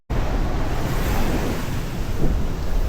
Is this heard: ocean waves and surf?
yes